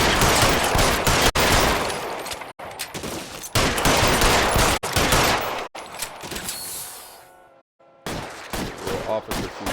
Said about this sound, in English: Why are they firing at us?